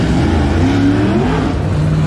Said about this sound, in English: We got cars on the track.